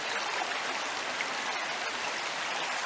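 Steady broadband rush of a shallow woodland river running over exposed stones during a dry spell, constant and close with no voices.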